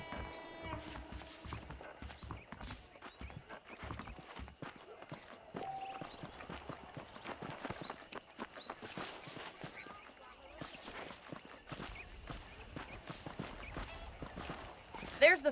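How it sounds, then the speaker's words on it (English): Horse hooves clip-clop on the ground in Red Dead Redemption, a steady stream of soft walking steps under background game sounds and faint talk. "The horses are saddled up over here."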